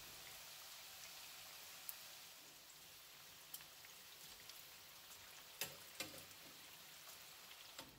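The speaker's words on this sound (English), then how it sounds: "I'm just going to fry these until the exterior is crispy and golden" Chorizo potato flautas deep frying in hot oil, a faint steady sizzle with scattered soft pops and crackles, heard alone without talk.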